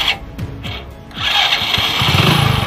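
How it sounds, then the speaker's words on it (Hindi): A motorcycle with a slightly weak battery self-starts after its spark plug cap is refitted: a few short cranking pulses, then the engine catches and runs with a steady, close idle. No voices. "अब हम बाइक को स्टार्ट करके देखेंगे कि बाइक स्टार्ट होती है या नहीं होती है।"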